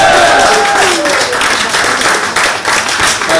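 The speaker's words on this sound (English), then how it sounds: "Give them a round of applause." Audience at an outdoor park gig claps loudly and steadily, mixed with whistles and cheers, with the noise tapering slightly toward the end.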